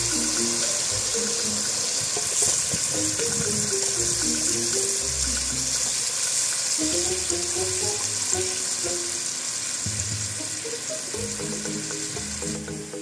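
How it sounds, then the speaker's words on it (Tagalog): Pineapple juice poured into a hot pan while cooking chicken humba gives a steady liquid rush and sizzle alongside bubbling, clinking kitchen activity. "At ibubuhos na po natin yung ating pineapple juice."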